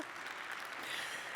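Faint, steady applause from a keynote audience at a tech summit, a soft continuous patter of many hands heard from a distance with no voices over it.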